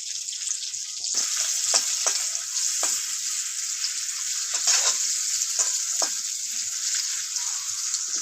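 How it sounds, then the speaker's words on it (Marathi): Chilli, garlic and ginger frying in oil for a Marathi ridge gourd curry: a close, steady sizzle throughout, broken by soft scraping stirs at irregular intervals. "परतून देऊया. परतून घेऊया आपण."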